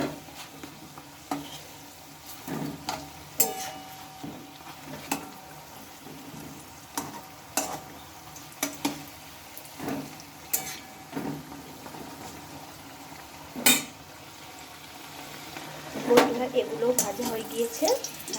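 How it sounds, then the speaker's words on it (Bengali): Latika sweets made of semolina and flour frying in hot oil, a continuous soft sizzle broken by regular clinking and scraping as the pieces are turned, moderately close. "এগুলোও দেখো আমি উল্টে পাল্টে কিন্তু লাল লালভাবে ভেজে নেব"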